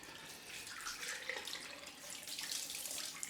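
A tap runs for a cold rinse after a wet shave, a steady close splashing stream of water filling the whole moment with no voices.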